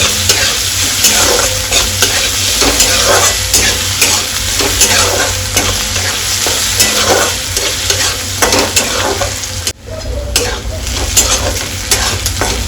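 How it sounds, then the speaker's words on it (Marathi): Potatoes sauté with asafoetida in a pan, a loud, close, continuous sizzle broken by frequent scraping stirs of the spatula, with one brief pause near the end. "हे बघा हिंग टाकलेला आणि परत एकदा चांगला परतून घेऊ"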